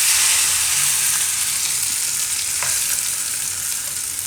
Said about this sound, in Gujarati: ચટણી ઉપર નાખી દઉં વઘાર.